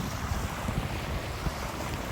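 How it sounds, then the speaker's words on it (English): Wind and ocean waves on a quiet beach in Destin, with steady wind buffeting the microphone over a continuous wash of surf, no voices. "I'm going to unmute this section so you can hear the wind and the waves and everything"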